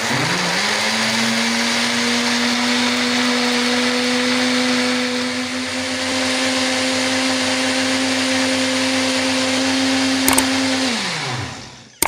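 A blender runs steadily, blending strawberries, water, sugar and strawberry essence into a shake. It is loud and continuous for about eleven seconds, then winds down and stops near the end.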